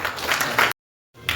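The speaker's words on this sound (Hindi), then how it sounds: "जोरदार से ताली करेंगे।" Loud applause at a swearing-in ceremony for newly elected office bearers of the Dangi Sanskriti Vikas Sangh in Ranchi, a dense burst of clapping that cuts off abruptly into silence, then resumes briefly.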